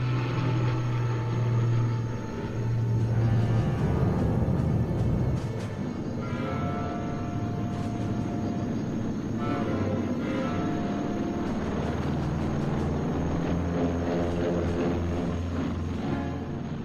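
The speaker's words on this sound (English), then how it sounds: "The gliders took off." Twin-engine C-47 transport aircraft towing gliders on takeoff, a steady loud droning engine roar with shifting tones throughout, no voices.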